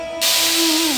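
Washed dhenki greens drop into a hot pan with nigella seeds, setting off a sudden loud hissing sizzle that holds steady after the initial burst.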